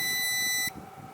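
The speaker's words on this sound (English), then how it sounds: "I think our battery's dying. It's beeping." A Wi-Fi and cell phone jammer with an amplifier gives a single sustained high electronic battery-warning beep, loud and close, cutting off abruptly before a quieter hum remains.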